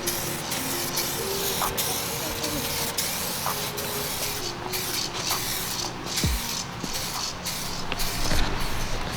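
Clear coat sprays from an aerosol paint can onto DIY carbon fiber Corvette trim pieces, a steady broad hiss with short pulsed bursts, near and continuous, with a heat gun running and brief talk around it.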